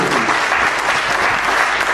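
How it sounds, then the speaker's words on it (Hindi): An audience applauds steadily, a dense wash of clapping hands that holds at an even, fairly loud level throughout. "याद करें उनको और उनके लिए तालियां बजाएं"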